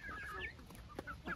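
Chickens and a brooding mother hen clucking close by in a farmyard, short throaty clucks in quick succession.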